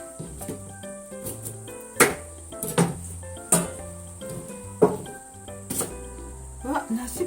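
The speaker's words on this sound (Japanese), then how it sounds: "今回はそれでみじん切りにしていきます" A knife finely mincing vegetables on a cutting board while preparing Yamagata-style dashi, heard as sharp, irregular knocks close by over steady background music.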